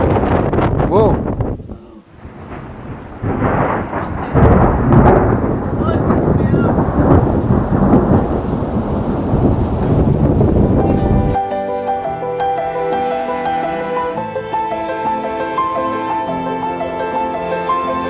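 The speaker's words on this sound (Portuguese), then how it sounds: "Nossa, até estava a trovejar ali no mar." Strong stormy wind gusts buffet the microphone by the sea in wintry Greece, a loud, close, rumbling roar that carries on for several seconds before giving way to a steadier tonal backdrop.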